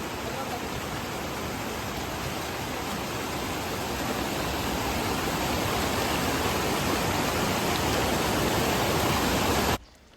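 A village stream overflows across a road, a dense, constant rushing and churning of water heard close and loud without a break, stopping abruptly at the very end.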